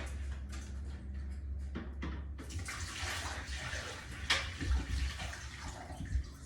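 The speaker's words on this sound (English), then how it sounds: "Nothing's coming out when I pour the water in" Water from a bucket is poured into a daiquiri machine, splashing and gurgling for several seconds with a few louder sloshes toward the end, fairly faint and without talk.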